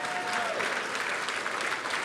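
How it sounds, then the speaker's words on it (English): A banquet-hall audience at an annual association dinner claps in a dense, sustained burst of applause, loud and even from start to finish. "you can applaud, all the Lebanese applaud"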